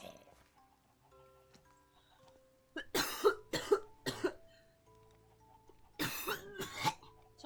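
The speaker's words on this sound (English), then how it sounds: "Sorry about the coughing." Two bursts of harsh coughing, a quick cluster of three or four coughs followed by a pause and then another longer fit, close and fairly loud.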